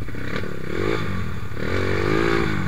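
A trail motorcycle on an off-road track revs and throttles up close, its engine note rising and falling twice with some clattering and scraping mixed in.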